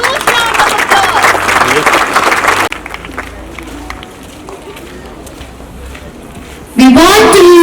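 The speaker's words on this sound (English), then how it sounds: "Let's welcome her with a huge round of applause." An audience at a school investiture ceremony claps and cheers to welcome a guest, a dense, loud crowd noise that drops to a softer murmur before a voice speaks over a microphone.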